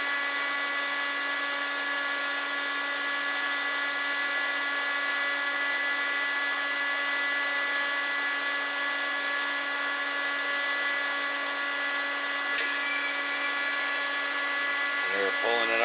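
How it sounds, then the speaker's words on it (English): Robinair 34700 refrigerant recovery machine running on a Freightliner truck, a steady loud whine with sustained droning tones that holds unchanged throughout, ending with a brief click and rattle. "I'm going to recover all the coolant, all the refrigerant that's in this thing."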